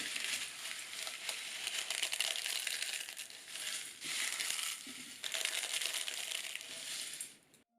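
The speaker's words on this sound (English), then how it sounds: "They should be so dry that you can crumble them somewhat like this" Dry, oven-baked phyllo pastry crumbled by hand, giving a steady close crackling and crinkling in a few bursts with brief pauses, alone and fading out at the end.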